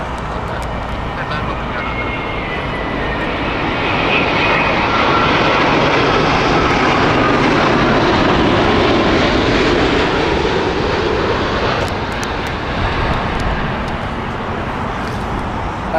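A British Airways Boeing 787-10 jet at Heathrow roars loudly and steadily, building to a strong sustained peak mid-clip before easing slightly, with broad engine noise filling the whole stretch.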